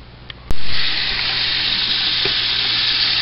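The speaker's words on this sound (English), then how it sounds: "Here I'm filling the bucket up with water." Water from a tap gushes into a 5-gallon bucket used as a chicken drinker, starting suddenly after a click and then running as a loud, steady, close splashing rush.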